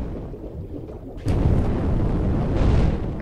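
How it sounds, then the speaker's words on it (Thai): Fire gun shooting in the mobile survival MMORPG Chimeraland, a muffled rumble that jumps into a loud, sustained roaring blast partway through and keeps going. "เราสามารถใช้ปืนไฟนะครับ ยิงใส่ปลาก็ได้นะ"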